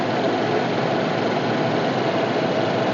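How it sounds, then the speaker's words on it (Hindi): A Suzuki Baleno RS with its 1000cc three-cylinder Boosterjet turbo petrol engine idles with a steady, even drone that holds close and constant throughout. "ये 3 सिलेंडर होता है, ये हमारा 1000 सीसी की बूस्टर जेट इंजन होता है"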